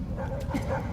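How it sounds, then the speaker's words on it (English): Dogs bark and whimper in a cutscene from the combat flight video game Ace Combat 7: Skies Unknown, short yips and barks over a dense, rumbling background during one continuous second. "and set the dogs on me."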